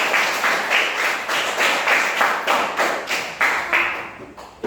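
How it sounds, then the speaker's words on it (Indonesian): Students in a classroom give a round of applause, a steady rhythmic clapping that stays fairly loud and continuous throughout with no one speaking over it. "Tepuk tangan dulu untuk"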